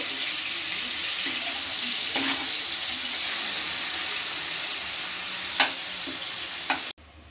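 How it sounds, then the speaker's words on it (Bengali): Marinated chicken filling fries in oil with a loud, steady hiss, broken by occasional spatula knocks against the pan as it is stirred, close up and without speech. "তেলের মধ্যে নাড়াচাড়া করে নেব"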